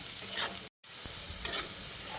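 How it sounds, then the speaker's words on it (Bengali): Potatoes frying in plenty of oil, a close, steady sizzle with soft stirring scrapes, interrupted by a brief silent gap early on, then resuming. "এই আলুটাকে একটু লাল লাল করে ভেজে নিচ্ছি"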